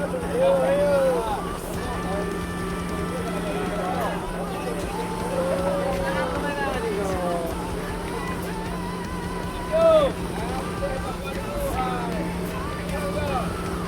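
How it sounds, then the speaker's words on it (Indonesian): Racing boats with modified D14 engines at full throttle give a steady, loud mechanical drone, overlaid with other tonal sounds that rise and fall. "Dengan isyarat radio yang tegas, semua jurumudi serentak mengarahkan throttle control ke depan penuh."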